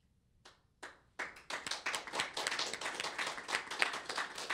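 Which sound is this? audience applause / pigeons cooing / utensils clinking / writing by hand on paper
audience applause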